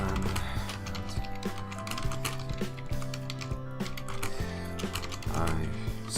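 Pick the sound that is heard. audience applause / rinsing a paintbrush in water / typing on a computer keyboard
typing on a computer keyboard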